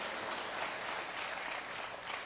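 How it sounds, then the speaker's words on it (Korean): A congregation at a Korean prayer meeting claps in a steady, dense wash of applause that continues evenly without a break. "박수 박수 박수 박수."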